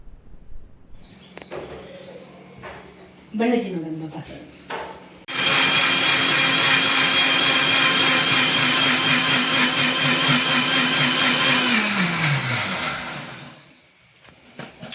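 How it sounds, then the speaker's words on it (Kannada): A kitchen mixer grinder whirring loudly as it grinds cleaned field crabs, running steadily for several seconds before winding down, with a voice and handling noises before it starts. "ಈಗ ಮಿಕ್ಸಿಲಿ ಕಡಿತಿದ್ದಾರೆ ಅಂದರೆ ಈ ಕಲ್ಲುಗಳಿಲ್ಲ ಹಾಗಾಗಿ ಕ್ಲೀನಾಗಿ ಕಡ್ಕೋಬೇಕು ಮಿಕ್ಸಿಲಿ"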